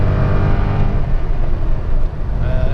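A Cadillac XLR engine hums steadily from inside the car, a smooth, loud low-pitched drone with a faint higher whine and no clear revving.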